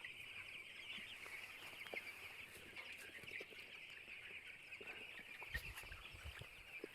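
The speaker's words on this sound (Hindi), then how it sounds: "चिक्स देख सकते हैं आप इधर" A flock of about 2000 broiler chicks on a poultry farm keeps up a dense, continuous chorus of high peeping, steady and moderately distant, with a few faint knocks and rustles underneath.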